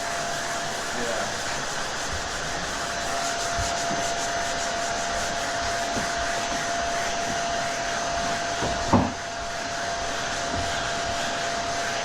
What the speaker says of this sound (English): first time rubbing this primer, and it does, like I say, sand really easy